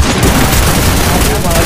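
Submachine gun fire in a shooter video game, a loud dense continuous burst of rapid shots filling the short moment.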